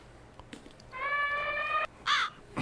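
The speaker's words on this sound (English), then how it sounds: "What about the elephant bird? I got that." Recorded call of the extinct elephant bird: a faint click or two, then a sustained harmonic honk-like tone lasting about a second, followed by a short rough caw-like burst, fairly loud and alone.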